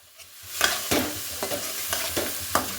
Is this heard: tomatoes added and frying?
yes